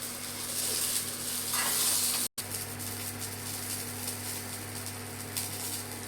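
Ingredients roasting in a pan for sundakkai kara kulambu, a steady close sizzle with faint stirring scrapes throughout, broken by one brief cut.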